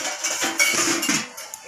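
A metal lid is set onto a cooking pot of boiling lentils on a gas stove. Several close, bright clinks and scrapes of metal on metal sound in quick succession, with no talking.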